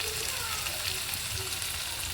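Fish frying in a pan, a steady close sizzle and crackle of hot oil throughout, with no talking.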